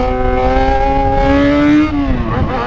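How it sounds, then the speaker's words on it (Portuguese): A motorbike being ridden, its engine loud and close with a strong harmonic whine that climbs steadily in pitch as it revs, then drops sharply near the end as the throttle changes. "a motoca tá andando"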